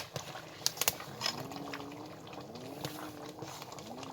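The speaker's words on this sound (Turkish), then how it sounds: "Tencerem kaynaya dururken" Faint bubbling of a pot of sauce boiling, soft and steady, with a few light clinks near the start.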